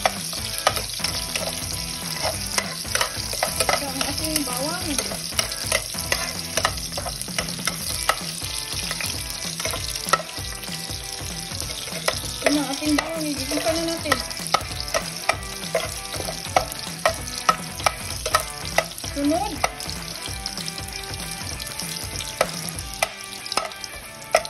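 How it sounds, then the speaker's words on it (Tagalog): Garlic sautéing in a pan as the first step of a Filipino bean sprout stir-fry, a steady loud sizzle and crackle with frequent spatula scrapes and stirring clatter throughout. "Igigasan na natin guys ang ating bawang."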